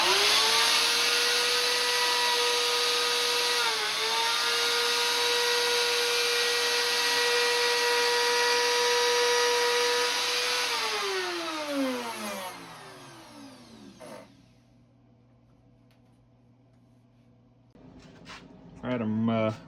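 A router cuts a pickup cavity freehand in reclaimed wood for a lap steel guitar, giving a loud, steady high whine that dips under load and then winds down, followed by quieter handling noises and a voice.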